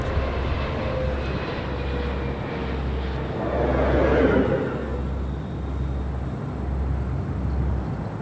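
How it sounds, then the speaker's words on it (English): An American Airlines Boeing 787-8 Dreamliner departs from runway 25 right at Los Angeles International Airport, its engines producing a steady, distant roar that swells briefly midway through and then settles back into a broad rumble. "American Airlines flight 1959. It's 787-8 Dreamliner."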